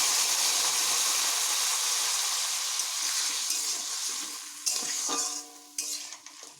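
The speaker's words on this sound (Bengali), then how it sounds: "এবার আমি কুমড়োগুলো যাতে বেশ নরমভাবে সুসেদ্ধ হয় তার জন্য আমি একটু জল অ্যাড করছি।" Water poured into a hot pan of cooking pumpkin sets off a loud, close hiss and sizzle that slowly fades, followed by a few clinks of a utensil stirring against the pan.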